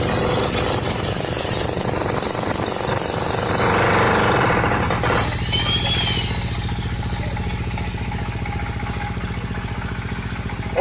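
A machine digging into a bridge in Sherpur, Moulvibazar, makes loud continuous mechanical hammering and engine roar that changes character partway through, then settles into a steady rhythmic pounding.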